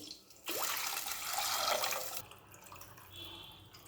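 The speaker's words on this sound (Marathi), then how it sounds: "भरपूर असं पाणी घालायचं आहे शेंगोळे शिजण्यासाठी" Water pours into a cooking pot to boil shengole, a loud rushing splash that starts suddenly, holds steady for about two seconds, then drops to a softer trickle.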